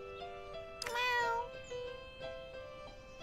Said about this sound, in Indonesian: ada suaranya tuh, guys, kucingnya, guys